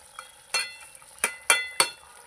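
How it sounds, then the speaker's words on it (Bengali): Amudi fish being dipped and stirred in curry gravy with spring onions and potatoes, giving four or five distinct scraping, sloshing stirs spaced irregularly over a soft simmering hiss, fairly close and without talk. "একটু ঝোলের মধ্যে চুবিয়ে চুবিয়ে দেবো"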